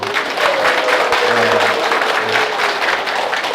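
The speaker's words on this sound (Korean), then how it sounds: "옆에 분들에게 힘내시라고 큰 박수 한번 쳐드리시죠." A lecture audience claps steadily throughout, a dense, continuous round of applause from a seated crowd at a talk on gender equality and communication, with a brief murmur of voices near the middle.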